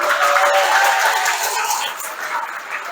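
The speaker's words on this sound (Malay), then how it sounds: "tepuk tangan kawan" Schoolchildren clapping for a classmate during a university outreach program at a primary school in Malaysia, a loud, continuous patter of many hands in a room, tapering slightly toward the end.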